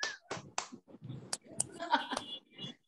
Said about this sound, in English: Everyone clap for Mina.